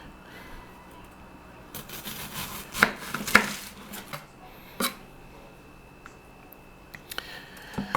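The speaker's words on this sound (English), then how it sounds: "All right, so you got your onion cut." Onion chopped with a sharp knife on a board, a handful of sparse, crisp knocks and cuts at irregular intervals, close and quiet with no talk.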